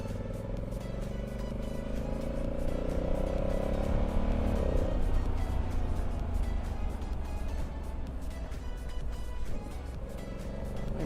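A 2020 Honda Africa Twin Adventure Sports with DCT being ridden on the road, its engine droning steadily with a rising then easing pitch, heavy wind rush throughout and no talking.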